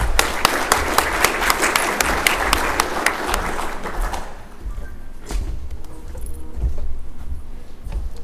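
Audience applause welcoming a presenter to the stage at a cable technology forum, dense clapping for about four seconds before fading into quiet room noise with a few scattered thuds.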